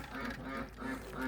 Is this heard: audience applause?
no